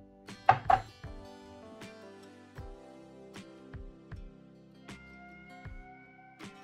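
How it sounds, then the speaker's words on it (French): A tomato cut by hand for an African pork dish, giving a short cluster of louder knife strikes near the start, then a slow, regular series of soft chops on a board against a sustained background tone. "Et concernant la tomate, je vais tout simplement le découper à la main"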